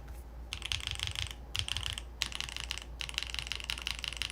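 Keys clatter on a computer keyboard in quick bursts of typing separated by short pauses, close and crisp over a low steady hum.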